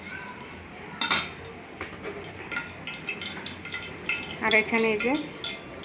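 Metal utensils clink and scrape against a cooking pot as boiled Qurbani meat is handled and lifted back into the pot, with short clattering bursts near the mic. A person speaks briefly over the clatter.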